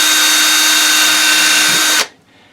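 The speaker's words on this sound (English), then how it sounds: "tilt the drill bit on the angle I want" A power drill whines loudly and steadily for about two seconds while drilling at an angle for a Command hook, then cuts off abruptly, leaving a faint hum.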